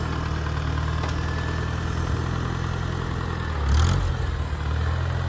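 A 1949 Farmall Cub tractor engine idles in first gear with a steady low, throbbing drone and a faint high whine above it, swelling briefly near the end.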